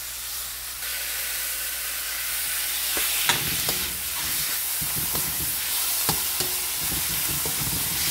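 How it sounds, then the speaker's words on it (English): Tomatoes drop into a hot pan with ginger and spices, giving a steady frying sizzle and hiss with scattered stirring clatter and knocks, fairly close and without any talking. "afterwards, I'm going to add my kamatis or tomatoes."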